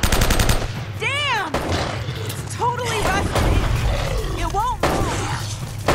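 Machine gun fire in Uncharted: Drake's Fortune, rapid bursts of shots at the start and again near the end, with a voice talking in between over loud game noise.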